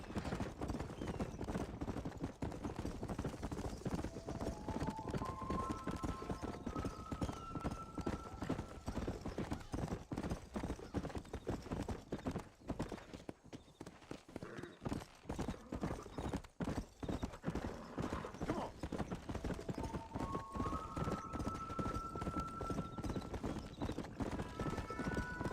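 Horse hooves in Red Dead Redemption on Nintendo Switch: a continuous, even clip-clop of a trotting horse close by, with short rising musical tones over it and a brief lull midway.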